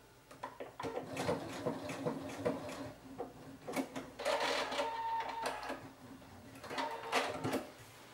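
A sewing machine stitching a seam on fabric for a skirt, faint and close, running in short bursts of rapid mechanical whirring separated by brief pauses and soft handling clicks, with no talk.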